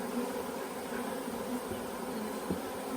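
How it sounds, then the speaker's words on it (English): A swarm of honey bees makes a steady, dense buzzing, continuous and fairly close, with a faint thump near the end. "Bees will get out of the way."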